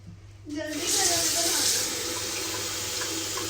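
Tap water runs from a faucet in a Paris setting, starting abruptly after a brief pause and then flowing steadily and fairly close, with a strong hiss that eases slightly after the first second.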